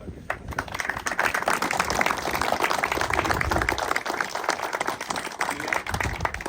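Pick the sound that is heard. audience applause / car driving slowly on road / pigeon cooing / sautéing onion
audience applause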